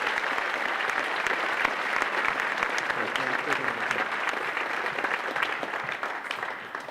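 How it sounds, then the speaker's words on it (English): An audience at a juggling festival applauds steadily for the performers, a sustained crackle of many hands clapping that fades slightly toward the end, with a voice faintly audible through it. "And I'd like to get just a little bit of applause for them right now."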